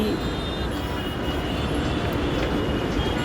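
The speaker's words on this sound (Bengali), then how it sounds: "মেট্রো গেল, এই মেট্রো" A Dhaka metro rail train rumbles past nearby, a loud continuous roar with a deep low-end drone that holds steady throughout.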